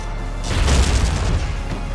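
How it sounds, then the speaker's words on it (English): A tank's mortar fires in the video game Valkyria Chronicles, producing a single loud, deep boom that swells and then rumbles away over about a second. "We're gonna use our mortar just like last time."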